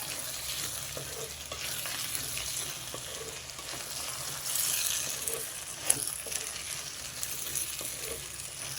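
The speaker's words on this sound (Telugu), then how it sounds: "కొంచెం ఉప్పు వేసి ఇదంతా బాగా కలుపుకుంటా" Potato curry being stirred in a pan after salt goes in: a steady close sizzle with continuous scraping and soft clatter throughout, no voices.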